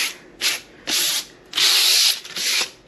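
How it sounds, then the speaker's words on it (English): Sandpaper scuffs over a heavy coat of primer on a cabinet box in four quick, close back-and-forth strokes, each a short dry rasp separated by brief pauses. "Just gonna do a light scuff on this."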